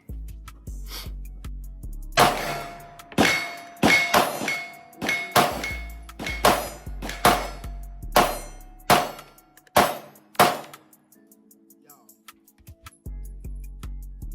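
Glock 19 Gen 6 9mm pistol firing roughly a dozen sharp, loud shots in a fairly steady rhythm, each with a short ringing tail, then a brief quiet pause before faint activity resumes; no talking.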